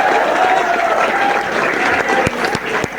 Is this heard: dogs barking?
no